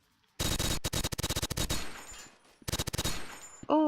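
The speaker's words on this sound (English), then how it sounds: "Oh, I'm getting shot at." Rapid bursts of video game gunfire in Blockade3D, loud and close, come in two volleys of sharp repeated shots with a short quieter gap between them.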